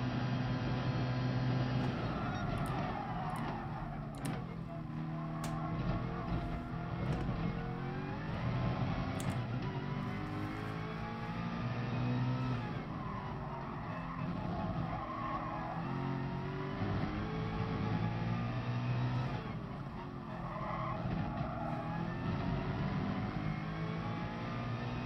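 A race car engine in the Gran Turismo Sport video game roars continuously at close range as it climbs and drops through the revs during a practice lap, with shifts and a few brief tyre squeals.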